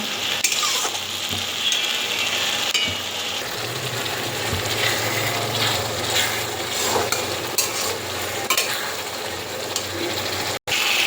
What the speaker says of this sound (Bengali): মশলাটাকে ভালো করে ভাজতে হবে।